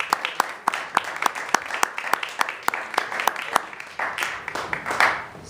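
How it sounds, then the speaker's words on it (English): Audience at a spoken word poetry open mic in New York claps steadily, sharp individual hand claps standing out in a loose rhythm while a crowd murmur and a voice run underneath, swelling toward the end. "keep clapping till he gets up here"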